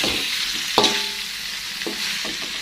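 A pan of tongkol fish balado is stirred with scraping utensil strokes, one sharp clank early on, over a steady background sizzle. Close by, with no talking.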